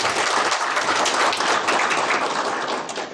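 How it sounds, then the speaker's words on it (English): A crowd at a non-governmental organization week event in Nairobi claps for an official, a thick, continuous burst of applause that holds steady and tapers slightly at the end. "So can we clap for him?"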